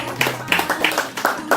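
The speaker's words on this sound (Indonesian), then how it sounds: "kita tepuk tangan dulu untuk kelompok 1" Group of participants in a classroom coaching session clapping in quick, rhythmic unison, several sharp clap bursts in under two seconds, close and fairly loud.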